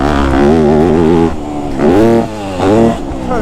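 A motorcycle on an off-road dirt track is ridden hard on the throttle, its loud engine revving up in rising sweeps, easing briefly, then surging again in repeated bursts close to the rider.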